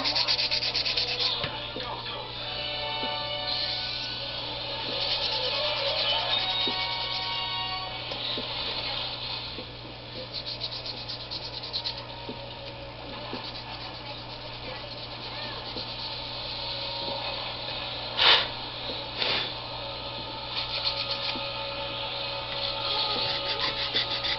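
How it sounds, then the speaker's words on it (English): Steady scratchy sanding against a plastic 1/1000 USS Enterprise model hull, continuous strokes running throughout with a low hum beneath and a brief sharper scrape near the end. "This is sanding very nicely."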